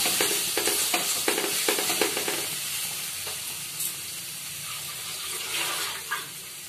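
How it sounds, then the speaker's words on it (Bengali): Chicken curry with kasuri methi being stirred in a frying pan, with rhythmic scraping strokes early on over a soft continuous sizzle that settles into quieter frying with occasional clinks. "অল্প করে কসুরি মেথি দিয়ে দিচ্ছি, আর একটু নাড়াচাড়া করবো।"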